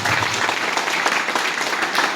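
Congregation at an Easter Sunday church celebration gives a steady, dense round of applause, loud and close throughout the short burst.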